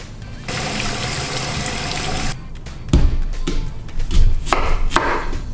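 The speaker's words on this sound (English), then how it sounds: "The second tip is to soak the onion in cold water." Cold water runs and splashes in a kitchen while an onion is soaked, first as a steady stream, then as louder sloshing and knocks against a bowl or sink, close by.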